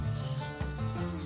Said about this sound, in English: This one was an old mark, so I'll just erase that one.